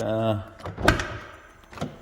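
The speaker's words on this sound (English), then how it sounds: "we'll open the door here" The driver's door of a 2003 Ferrari 360 opens with a sharp latch clunk followed by a softer thud, close by, with someone talking just before it.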